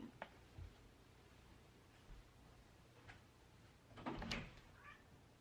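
A cat shut outside a door gives a couple of faint meows, muffled and distant, with quiet clicks and a soft thump in a calm indoor room.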